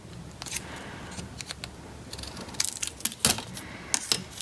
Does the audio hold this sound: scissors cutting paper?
yes